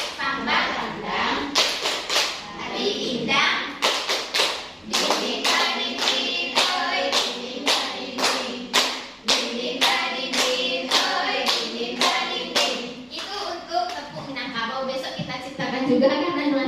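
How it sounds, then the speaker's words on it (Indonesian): A group claps in a steady rhythm for a Minangkabau clap chant, with sharp, close, loud claps in quick repeated patterns under voices chanting along. "Sekali lagi ya, tepuk Minangkabau."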